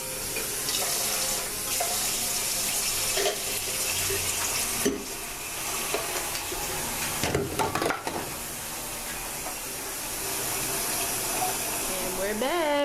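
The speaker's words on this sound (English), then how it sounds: "I'm gonna go ahead and rinse this out because we recycle" Tap water runs steadily into a kitchen sink, splashing and gushing as a container is rinsed out for recycling, with occasional knocks and shifts in the flow over a dozen seconds.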